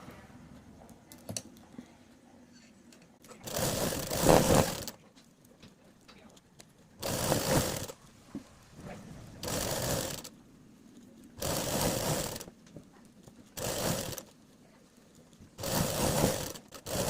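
A sewing machine stitches a pant seam in short bursts of rapid whirring, several runs of a second or two separated by quieter pauses, close and clear.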